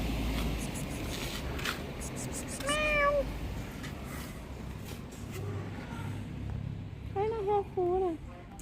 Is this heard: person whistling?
no